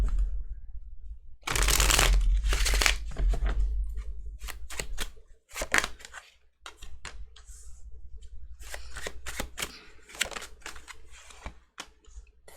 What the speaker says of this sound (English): if I can shuffle properly